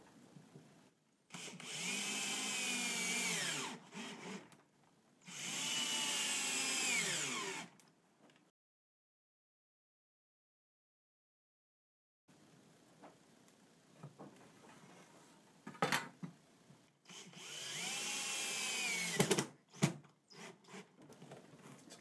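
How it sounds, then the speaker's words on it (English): A drill driving screws into a jig for building a tenor guitar: several loud whirring bursts of a few seconds each, with rising and falling pitch as the screws seat, then a long silence and more bursts with clicks and handling noise. "I'll go ahead and screw one side down"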